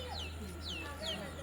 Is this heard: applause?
no